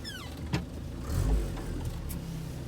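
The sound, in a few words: 1989 Land Rover Defender 90 driving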